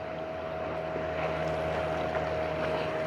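A fishing boat returning to harbour after a fishing trip at Myliddy: a steady engine drone with a sustained tonal hum and low throbbing harmonics over wind and water wash, continuous and fairly close, with no talk.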